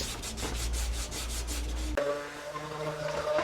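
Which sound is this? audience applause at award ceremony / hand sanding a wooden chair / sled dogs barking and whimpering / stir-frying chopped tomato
hand sanding a wooden chair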